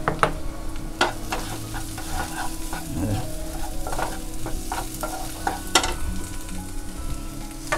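Ginger-garlic paste masala for kaleji (liver) fry sautéing over a low flame, a continuous soft sizzle broken by repeated spatula scrapes and taps against the pan, steady and close.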